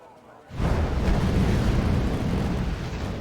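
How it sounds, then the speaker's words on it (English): A missile launches in the war strategy game Wargame: Red Dragon, a loud roaring whoosh that bursts in after a quiet half-second and holds as a sustained, rumbling blast to the end. "Somebody launched a missile there."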